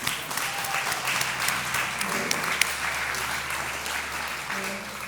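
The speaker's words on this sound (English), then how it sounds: "Let's give a round of applause, please." A crowd at a panel event applauds continuously, a dense wash of clapping from many hands holding steady throughout.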